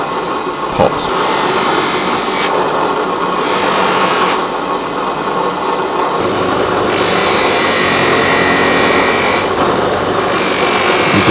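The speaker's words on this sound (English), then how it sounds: "Bit of white compound on the buffer." A buffing wheel loaded with white compound polishes a hand-forged carving axe, producing a loud, rushing whir that swells and eases as the steel is pressed against it.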